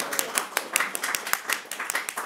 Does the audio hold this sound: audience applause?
yes